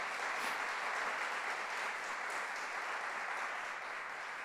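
Church congregation applauding for Jesus during a sermon, a steady, even wash of clapping heard quietly from a distance, with no talk over it.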